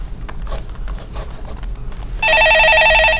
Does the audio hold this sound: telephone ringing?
yes